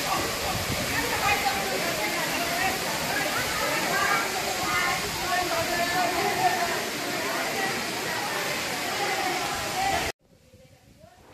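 Constant rushing waterfall roar beside the Shivgadi Dham cave temple in Sahibganj fills most of the clip, loud and steady, then cuts abruptly to near quiet at the end.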